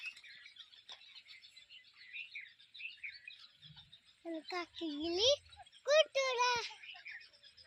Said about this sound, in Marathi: चिमण्यांचा कालवा चालू आहे आता दिवस मावळताना आपापल्या घरी जात आहेत